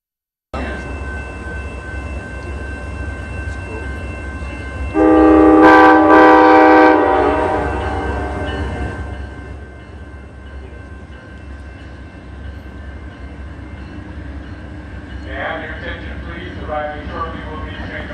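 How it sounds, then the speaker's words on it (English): Northbound Coast Starlight passenger train blasting a loud, sustained horn as it arrives, followed by rumbling wheels and rail noise fading, then a fainter second horn near the end. "Arriving shortly will be train number 14, the northbound Coast Starlight."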